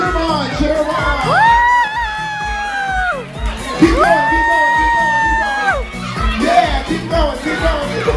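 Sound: children cheering at a birthday party hula hoop contest

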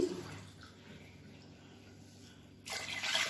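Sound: pouring water from a tumbler into a pot

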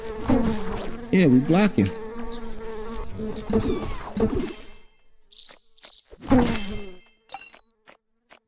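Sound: swarm of bees buzzing in video game Secrets of Grindea

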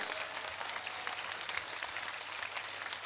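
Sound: crowd applause at a community gathering

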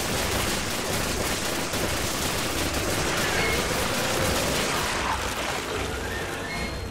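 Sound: machine gun fire in Resident Evil 5 video game

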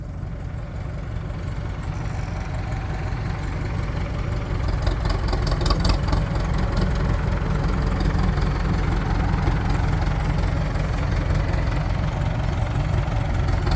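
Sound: tractor engine pushing a truck

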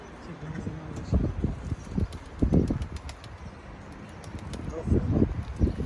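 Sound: pigeons cooing and flapping wings

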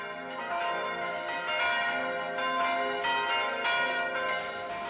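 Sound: church bells calling to prayer in Taizé

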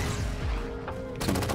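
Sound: gunfire in a video game

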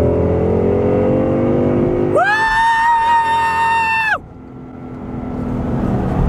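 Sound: 1964 car engine revving on a drive

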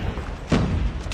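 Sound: grenade explosion in a Call of Duty video game

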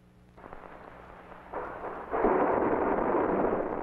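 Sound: Saturn V S-IVB rocket stage static test firing

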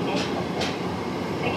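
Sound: Tokyo Metro Ginza Line subway train running

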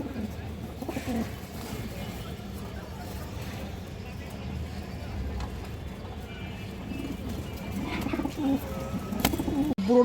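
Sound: pigeons cooing

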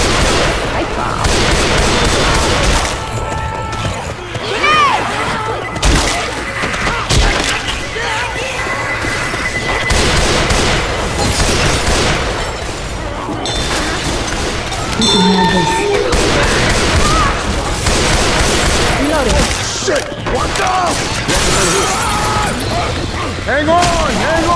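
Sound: gunfire in the Left 4 Dead 2 video game

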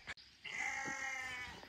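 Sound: person imitating a sheep bleat

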